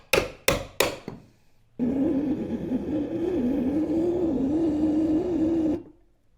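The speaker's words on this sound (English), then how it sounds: "I need to notch this joist down here." Notching a wooden joist: three sharp, close knocks come first, then a steady, droning power-tool whine cuts into the wood for about four seconds before stopping.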